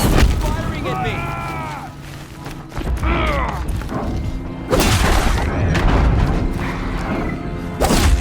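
A corrupted Thunderjaw machine in Horizon Zero Dawn fires heavy rounds, with deep booming explosions that land in several bursts under ongoing game voices and mechanical whirring.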